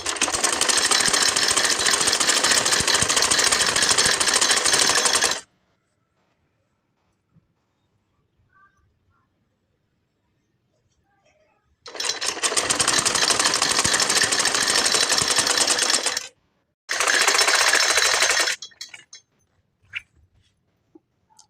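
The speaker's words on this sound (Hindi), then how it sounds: "और अब ऐसे रख के इसके ऊपर हम सिलाई लगा देंगे।" A sewing machine stitches salwar fabric in loud, rapid mechanical bursts, close by, one run of about five seconds and then two shorter runs, with near silence between them.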